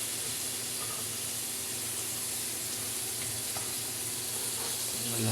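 Onions sizzle steadily in a pan while frying for a quick breakfast, a continuous close hiss with occasional light clinks and faint talk beneath.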